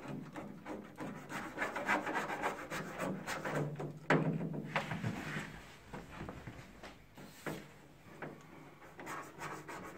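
A saw cutting through the roof ceiling of a LADA Kalina car makes steady, close rasping strokes in a continuous rhythm, with a sharper scrape partway through.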